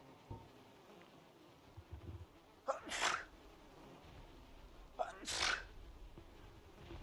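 Two sharp sneezes, one near the three-second mark and another about two seconds later, stand out clearly against a quiet room with faint background noise.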